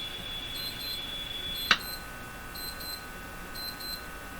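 A coffee break reminder alarm beeps in short, faint clusters that repeat a few times at a distance, with one sharp click just before them and no voices.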